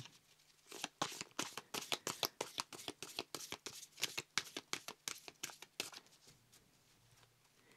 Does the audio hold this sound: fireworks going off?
no